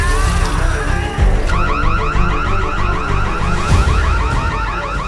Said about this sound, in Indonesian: Dengan cepat, Maggie menyalakan alarm yang ada di rumahnya